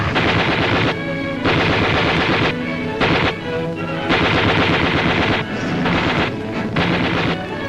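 Gunfire in the streets of Colmar as the town is taken in wartime, dense bursts of rapid loud shots in repeated volleys with brief pauses, heavy and close, under a rumbling wash of noise.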